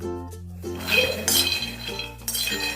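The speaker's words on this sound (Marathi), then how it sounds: "चमचा सतत हलवत राहायचा, त्यामुळे शेंगदाणे सगळीकडून सारखे भाजले जातात" A spoon stirs peanuts as they roast dry in a pan, giving close, continuous clinking and rattling with bright metallic scrapes and a steady low hum underneath.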